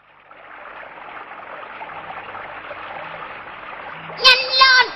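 A small stream carries little boats made of reeds, its water flowing in a steady broad rush that grows slightly louder, with a brief burst of voices near the end.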